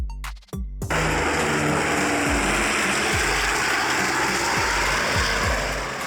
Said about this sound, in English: Water bomber plane.